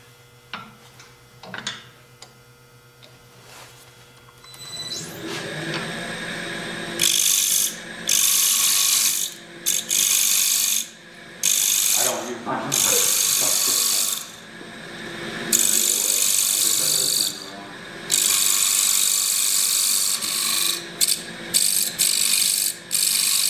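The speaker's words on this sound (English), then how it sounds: "So I think I'm going to use my Bedan." At a woodturning club demonstration, a bedan tool cuts a bevel on a spinning workpiece: after some quiet clicks and handling, loud scraping bursts start and stop repeatedly, separated by brief pauses.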